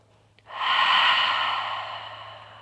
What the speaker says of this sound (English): Deep breathing. If it's too much, open up your mouth and